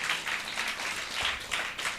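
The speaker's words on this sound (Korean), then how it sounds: "Can we clap for the worship team?" A church congregation claps for the worship team, a brief burst of moderately distant, rippling applause that swells in a few waves.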